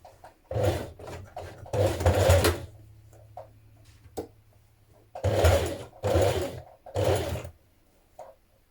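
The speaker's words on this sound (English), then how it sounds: "we're going to stitch that waistband down" Sewing machine stitching down a trouser waistband in several separate bursts of fast mechanical whirring, each a second or so long, with short quiet pauses and faint handling clicks between runs.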